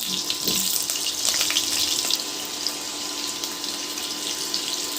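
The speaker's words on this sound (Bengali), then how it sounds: "এবার আমি একটা আলুকে ছ টুকরো করে নিয়েছি দুটো আলু তেলের মধ্যে আমি দিয়েছি" Two potatoes cut into pieces fry in hot oil, a loud, continuous bright hiss close by with no talking.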